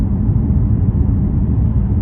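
A BMW F82 M4 cruises over a smooth road, its engine and tyres making a constant, loud low drone inside the cabin with no talking.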